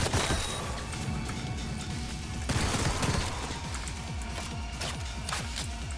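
The Blackwall gun, a power weapon in Cyberpunk 2077: Phantom Liberty, fires in repeated sharp bursts with a heavy blast midway, over pulsing game music and effects.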